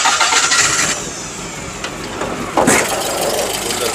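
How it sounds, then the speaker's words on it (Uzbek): An old Volga sedan converted into a pickup, at a Volga car market in Namangan, cranks and starts. Its engine then settles into a steady, fairly loud idle that runs to the end. "Motori ham yaxshi turibdi, ovozi yaxshi."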